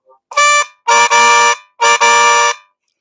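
A harmonica imitating a car horn, three loud chord blasts in a row, the last two longer and honk-like, with no one talking.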